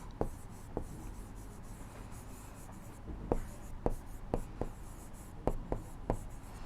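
A pen or pencil sketches a rough quadrilateral on paper, soft scratchy strokes and sharp taps spaced irregularly, close and faint, under a speaking voice.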